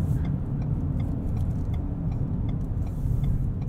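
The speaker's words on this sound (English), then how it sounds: "Very typical Ford turn signal sound there." Turn signal clicking inside a 2021 Ford Bronco Sport Badlands 4X4 while driving, a faint steady tick over a continuous low road and engine rumble.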